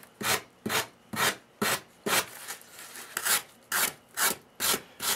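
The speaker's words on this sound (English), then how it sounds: "Just rasp that down." A hand rasp filing a sharp cut edge of wood on a model railroad upper level, with about eleven evenly spaced rasping strokes, close and crisp with no talking.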